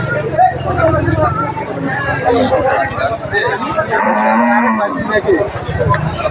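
Sahiwal Sindhi cow mooing at a busy cattle market, loud drawn-out bellows rising over a crowd of chattering voices and general market hubbub.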